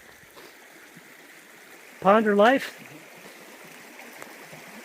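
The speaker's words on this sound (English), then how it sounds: "Sit by the creek" A creek flows with a soft, continuous burble and trickle in the background, briefly interrupted by a person speaking.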